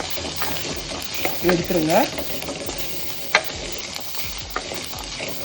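Chana dal and coconut are stirred in a hot pan, a continuous sizzle broken by scraping strokes and one sharp clack of the spoon. Someone speaks briefly over the frying.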